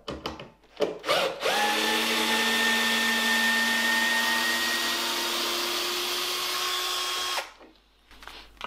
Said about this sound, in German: Wir schrauben auch nochmal raus.